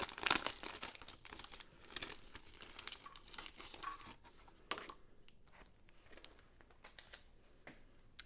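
Rose gold foil cardstock rustles and crinkles as sheets are searched through and handled, with irregular papery crackles and shuffles, loudest early on and tapering to softer, sparser handling sounds, close and with no talking.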